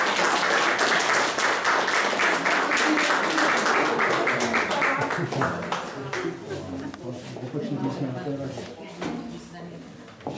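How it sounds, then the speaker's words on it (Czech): A seniors' entertainment-show audience claps for a beauty-contest winner, the dense applause strong at first, then fading into scattered claps as a voice talks over it. "A veliký potlesk a gratuluji."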